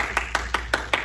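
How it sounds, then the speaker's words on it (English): At an adult and high-rank martial arts class, a few people clap for an instructor, five crisp, evenly spaced claps in a brisk rhythm, close and clear. "let's give Miss Edward a round of applause"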